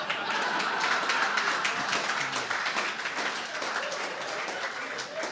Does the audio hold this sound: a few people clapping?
yes